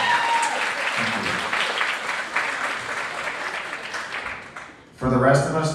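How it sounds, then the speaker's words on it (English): At a school athletic achievement ceremony, an audience in a gym or hall applauds in a dense, sustained burst. As the clapping dies down, someone begins talking. "Please, big round of applause for him."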